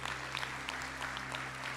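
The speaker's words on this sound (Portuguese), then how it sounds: "Aplaude o teu Senhor, aplaude" A church congregation applauding during a sermon; a faint, steady patter of clapping from across the room over a low electrical hum, with no clear peaks.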